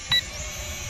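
A single short, high electronic beep from a Xiaomi MiJia G6 toy drone, a bright two-tone chirp lasting a fraction of a second, followed by low background hiss.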